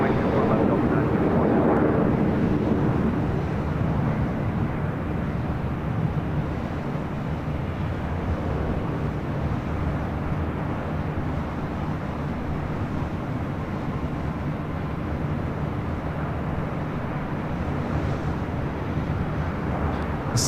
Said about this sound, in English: This is the 767 at 300ER coming in, or heading to JFK.